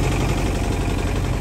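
A tractor engine labours while trying to pull out a tree stump, giving a loud, continuous, rough rumble with a dense broadband roar that holds steady throughout.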